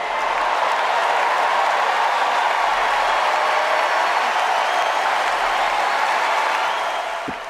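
An applause machine plays canned applause on a city-affairs podcast, a dense, steady wash of crowd clapping that runs loud and unbroken for several seconds before easing off at the end.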